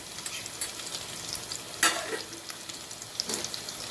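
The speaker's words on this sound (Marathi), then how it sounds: "थोडासा हिंग घालायचा आहे" Hot oil sizzles softly in a pan as asafoetida goes in for masvadi rassa, a steady low crackle broken by a couple of sharper spatters and stirring scrapes, with no talking.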